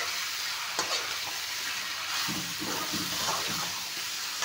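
Local chicken frying in a pan with a full load of spices and whole garlic cloves gives a loud, continuous close sizzle, with stirring scrapes and bursts of crackle in the second half.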